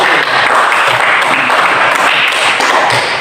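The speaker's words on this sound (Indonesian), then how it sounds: "berikan aplaus untuk" Classroom applause from a group of students during a lesson on social institutions, a steady dense patter of many hands clapping at once, close and loud, holding evenly for a few seconds with no talk over it.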